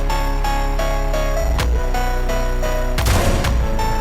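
Enemy gunfire in a shooter video game, a couple of loud booming shots cracking over a constant droning game background, near and punchy.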